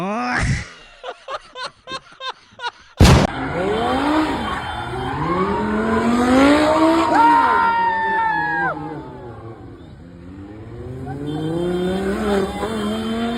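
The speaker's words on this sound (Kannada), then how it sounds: "ಬ್ರೇಕ್ ಹೊಡೆದಾಗ ಸ್ಕಿಡ್ ಆಗಿದೆ" Lamborghini drifting at Anil Kumble Circle in Bengaluru: a few sharp clicks, then a loud burst into a roaring engine with long, wavering tire squeals as the car skids, sustained and near before easing and building again.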